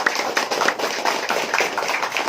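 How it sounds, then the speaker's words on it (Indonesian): An audience claps after a call for applause at a Hindu dharma talk, steady scattered hand claps blending into a brisk, moderately distant patter for a couple of seconds. "Tepuk tangan untuk saudara kita."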